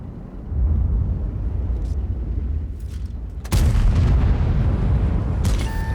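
A tank cannon fires its last APCR shell in a video game, a single heavy boom about midway that cuts sharply over a steady low engine rumble and then lingers as a dense roar.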